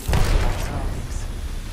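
A grenade detonates in Apex Legends with a deep, close boom that thumps at the start and then fades into a rumbling tail, while a voice talks over it.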